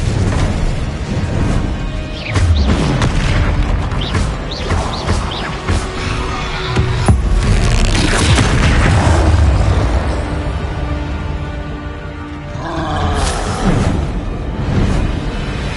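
Spell blasts crash and whoosh in the PS5 game Hogwarts Legacy, with loud repeated impacts and bursts during a chaotic fight. Shouted incantations and game voices sound alongside.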